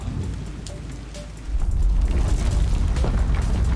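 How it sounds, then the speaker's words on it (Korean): Heavy rain pours outside an apartment at night during a flood, a dense, loud rushing wash with a deep rumble that swells and stays steady, no voices heard. "비가 왜 이렇게 많이 와?"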